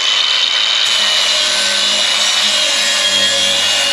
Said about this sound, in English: we're going to take the flap disc and we're going to sand the edges